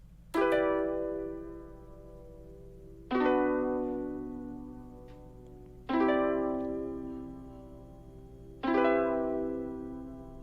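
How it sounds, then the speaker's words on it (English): Lo-fi piano from Pigments in an RnB production, four slow, evenly spaced chords or notes each struck and left to decay, over a soft steady low hum. "Next thing I added was this lo-fi piano from Pigments, and this just plays the same notes as the original melody."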